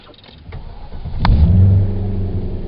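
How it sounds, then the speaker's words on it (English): A 2008 Cadillac XLR-V supercharged engine rumbles up close, swelling from a low idle into a deeper, louder roar midway after a couple of sharp clicks, then settling into a steady growl. "Let's take a ride in a 2008 XLR Cadillac."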